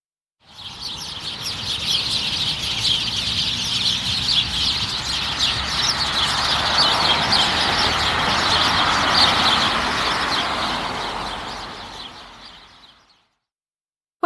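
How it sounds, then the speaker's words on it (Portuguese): Outdoor soundscape of birds singing and chirping continuously, with a steady wash of passing car traffic underneath, moderately loud and sustained throughout, no voices. "Canto dos pássaros e barulho gerado por automóveis."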